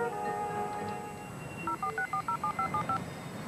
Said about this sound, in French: Appelez Marc-Antoine à Londres.